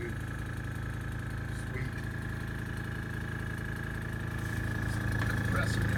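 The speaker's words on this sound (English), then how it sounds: "Compressor down here. I do a little airbrushing, so I have it, and I figured, hey, why not?" A small air compressor used for airbrushing runs close by, a steady droning motor hum with a constant whine and no pauses. Someone talks over it briefly.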